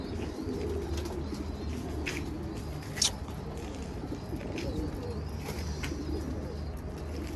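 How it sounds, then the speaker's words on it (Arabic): Soft cooing of pigeons or doves repeats over a low background hum, with a brief sharper chirp partway through. "هاي الطيور"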